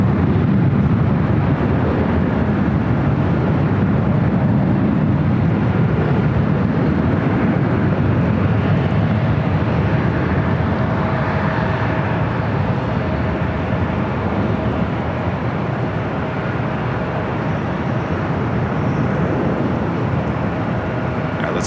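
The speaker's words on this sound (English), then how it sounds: "Our British Airways, the 777-300ER up next. Arrival here on the north side." A British Airways Boeing 777-300ER arriving at LAX on the north side, a loud continuous jet roar and rumble holding steady throughout with no talk.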